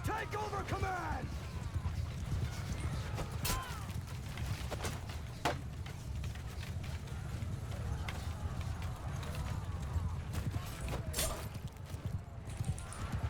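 Rapid clip-clop of horse archers' hooves galloping across a battlefield in the video game Mount & Blade II: Bannerlord, a steady drumming rhythm under battle noise with occasional sharp clashes and a voice talking over it.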